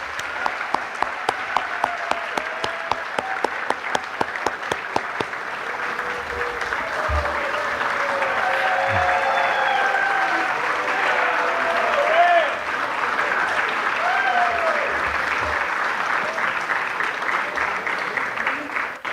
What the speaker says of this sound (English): Let's all give our legends one more big Rams round of applause.